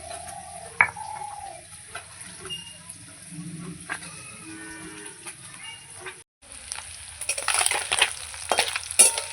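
Amudi fish fry in a pan with a steady sizzle, broken by scattered clinks and scrapes as the pieces are lifted out. The frying grows louder and busier toward the end.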